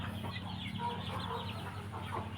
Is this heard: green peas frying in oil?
no